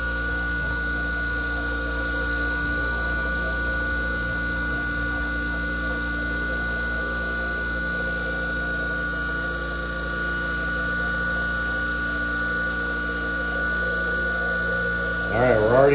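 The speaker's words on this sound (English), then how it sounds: "turn this pump on, there's a little button on this side" A small battery-powered vacuum pump runs steadily with a constant motor hum and tonal whine, an even drone held for the whole stretch with a brief louder bump near the end.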